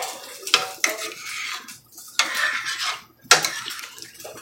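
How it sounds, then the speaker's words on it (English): A spoon stirs gravy in a pot, with a few sharp clinks of metal on the rim and scraping swirls in between, close and fairly quiet, with no talking. "I'm going to stir it all in there."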